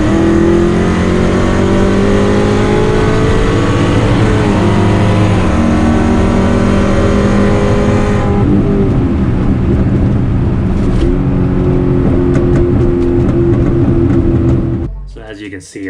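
A tuned Pontiac G8 of about 625 wheel horsepower runs at wide open throttle, its engine note climbing loud and close through the gears with a shift midway, then dropping off sharply at the end, with a voice talking over it.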